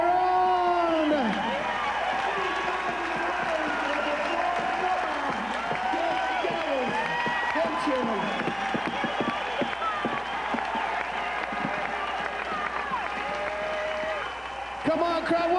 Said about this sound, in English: Come on, crowd, one more time. Let's hear it for the winner, Amy Carnie.